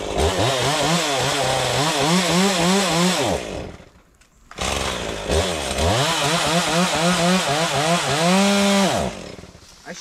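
A chainsaw with a fuel problem revs up and down in two long bursts, dropping briefly to near silence between them as it keeps dying, loud and close.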